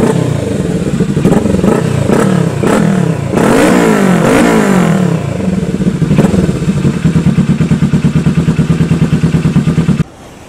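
A Kawasaki Vulcan motorcycle with a modified exhaust and extra baffle revs loudly nearby, rising and falling blips of throttle that settle into a steady, rhythmic idle thump before cutting off.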